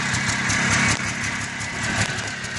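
A Polaris Trail Boss ATV engine idles steadily and close by just after a cold start, a continuous chugging rumble with no voices over it.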